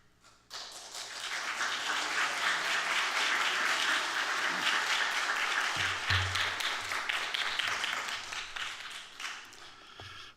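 A church congregation applauds to welcome a pastor at a New Year evening service, clapping swelling in quickly, holding full and steady, then tapering off near the end.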